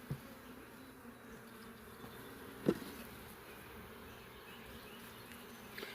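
Bees in a sparsely populated queenless colony hive give a soft, steady buzzing drone, with a single sharp knock partway through.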